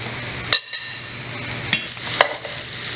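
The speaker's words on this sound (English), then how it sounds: "now we're gonna cook our sweet potatoes and you're gonna start adding them to the butter" Sweet potatoes being added to butter in a pan for a hash, a few sharp clacks of utensil on pan over a steady close sizzle that builds slightly, no voices.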